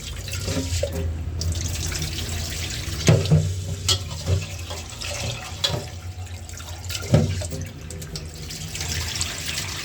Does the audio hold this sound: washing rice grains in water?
yes